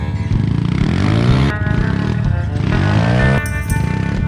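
Small off-road vehicle on airless tires lifting into a wheelie, its motor whining and revving loudly and continuously with rising and falling pitch, close by and alone.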